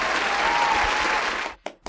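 Canned applause sound effect, a dense, steady wash of clapping from a large crowd that cuts off sharply after about a second and a half, followed by a couple of short bursts.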